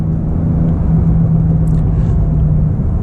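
A Porsche 992 Turbo S driving in Sport Plus mode, a steady low engine drone and road rumble from inside the cabin, held at an even level without voices.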